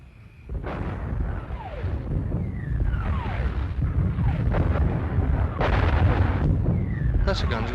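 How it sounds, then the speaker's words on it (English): Artillery guns firing during a wartime battle scene in a film, heavy booming blasts and rumbling explosions rolling on continuously at moderate distance, with whistling shell sounds and other noise mixed in. "That's a gun to the Second Army. Aye, they sound a bit nearer."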